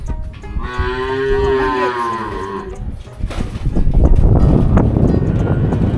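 A cow lets out one long, loud, close moo on a rural river-island char, the drawn-out lowing fading after about three seconds, followed by wind buffeting the microphone and rustling outdoor noise.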